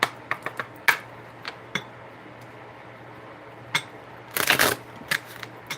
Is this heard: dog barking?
no